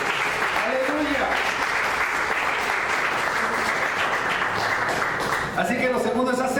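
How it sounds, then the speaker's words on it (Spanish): Church congregation applauding, loud sustained clapping with shouts and voices mixed in, a preacher's voice rising over the crowd toward the end. "Denle una ofrenda de palmas a Él"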